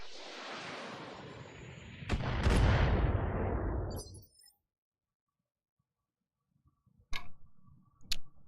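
Battletech mechs fire their weapons at a target in a turn-based video game: a loud, roaring blast punctuated by sharp cracks fades out after a few seconds, then silence, then two separate sharp impacts.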